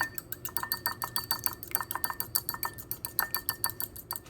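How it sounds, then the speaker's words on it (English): Three eggs are whisked briskly in a bowl, giving a quick, even run of light tapping clinks from the whisk against the sides, close and fairly quiet, with no voices. "I'm gonna begin with 3 little eggs. We're gonna whisk it up."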